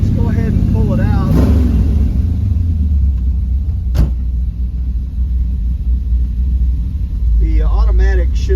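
A 1929 Ford Model A pickup engine rumbles steadily and fairly loud as the truck pulls out, with brief talk near the start and end.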